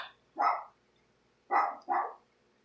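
A dog barks three times, loud and close, with one single bark followed about a second later by a quick pair, and quiet room noise between them.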